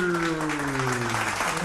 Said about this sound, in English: now we have sound for clap, clap, clap